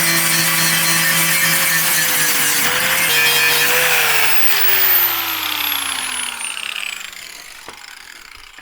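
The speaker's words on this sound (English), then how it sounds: "I have a grinding disc on this actually, so this should do the trick now" An angle grinder with a grinding disc whines loudly as it cuts into a rusted panel near a Mk2 Golf's rear light cluster, its pitch sagging under load before it winds down.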